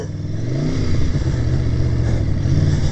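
A 2019 Kawasaki Ninja H2 motorcycle engine revs loud and close, a steady deep roar with rising pitch sweeps and mechanical clatter throughout, no voices.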